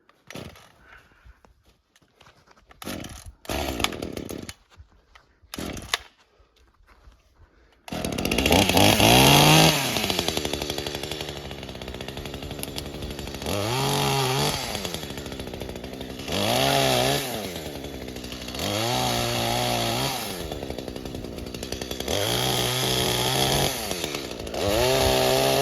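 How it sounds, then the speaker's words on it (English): Small chainsaw, just repaired after a fuel leak, tested: a few quiet pulls and sputters, then the engine catches and runs loud and close, revving up and down in repeated surges for the rest of the run. "let's have a small test on the small chainsaw that was fixed recently"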